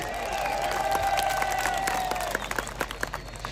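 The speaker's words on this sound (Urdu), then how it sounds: "تو پھر تالی مارے یا نعرہ مارے کہ اسلام آباد میں بھی آواز آئے" A political rally crowd in Chaman claps and cheers in a dense, ongoing roar, with a sustained whistle-like tone in the middle and sharper individual claps near the end.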